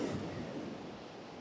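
Choppy sea waves roll along the Torrevieja coast on the Costa Blanca, a steady rushing wash of surf mixed with wind buffeting the microphone, constant and fairly loud.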